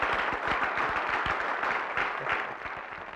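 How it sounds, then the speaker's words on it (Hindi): An audience gives dense, continuous applause for an award at a show event, with many hands clapping together at a fairly loud level before it eases off slightly at the end. "और जोरदार तालियां बजाई जाए इस अवार्ड के लिए।"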